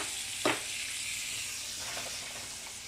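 Butter bubbles and sizzles in a pan for burgers, a soft, even hiss throughout with one brief sharp spit near the start.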